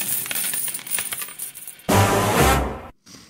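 A coin drops and rings with a bright metallic clatter, loud and close, after a stretch of quieter tapping and shuffling; it stops abruptly.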